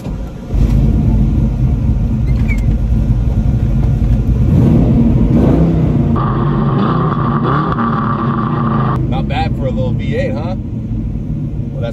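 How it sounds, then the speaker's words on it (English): A Corvette LS1 V8 with a T56 transmission in a 1970 split-bumper pro-touring car, heard from inside the cabin: a loud, steady engine rumble that swells and shifts pitch as it revs, with voices talking over it. "That's not just any V8, that's a Corvette LS1 with T56."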